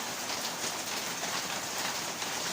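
Steady rain pours down on a rural farm during a typhoon, a dense even hiss of drops striking surfaces, continuous and fairly close with no voices.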